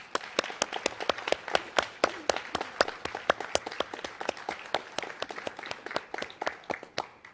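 An audience at an early college awards ceremony applauds the award recipients, a lively run of scattered, crisp hand claps carrying on steadily throughout.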